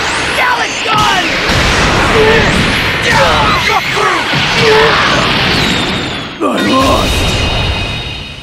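In Dragon Ball Legends, the Gallant Gun attack blasts out as loud booms and crashing impacts with whooshing energy sweeps, several bursts in quick succession, under an energetic voice shouting over the effects.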